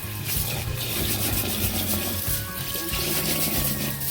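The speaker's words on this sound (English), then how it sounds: "Make sure you wash until water becomes clean." Running water splashes and trickles steadily with sloshing movement as rice grains are swished and rinsed in a bowl under a tap.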